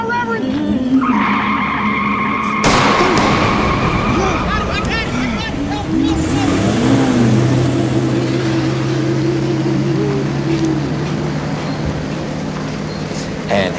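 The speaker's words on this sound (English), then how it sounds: "And his car veers off the road." A car skids and veers off the road in a dramatized crime scene, with long rising and falling tire squeals over a roaring engine for over ten seconds, loud and close, while voices shout and babble underneath.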